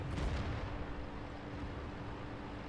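Tank gunfire in World of Tanks, a sustained heavy rumbling blast that fills the whole short stretch, loud and close with no voices.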